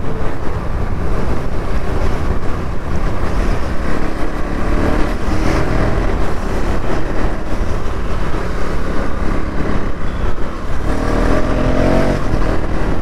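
A KTM Duke Gen 3 motorcycle with about 5,000 km on it runs in a continuous engine drone while riding, heavily buffeted by steady wind noise across the microphone.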